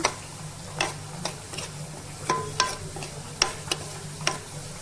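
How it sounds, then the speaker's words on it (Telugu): Turmeric fries in a little oil in a pan while being stirred, a soft background sizzle broken by repeated sharp spoon clicks and scrapes against the pan at an uneven pace, close and fairly clear. "పసుపు వేసుకొని ఇలా కలపెట్టుకోవాలి. కొంచెం పసుపు ఆయిల్లో కొంచెం ఫ్రై అయినట్టు అయ్యాక"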